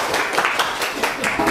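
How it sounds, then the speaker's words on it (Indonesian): Students in a classroom applaud a classmate named Nurul, a brief burst of scattered, rhythmic hand claps of moderate loudness. "tepuk tangan buat Nurul"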